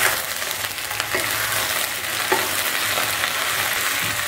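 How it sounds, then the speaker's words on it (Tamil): Okra sautéing in hot oil with salt gives a dense, close sizzle with soft stirring scrapes running steadily for a few seconds. "இப்போ எண்ணெய் காஞ்சது, வெண்டைக்காயை போட்டுக்கலாம். நல்லா இந்த மாதிரி வதக்கிக்கணும்."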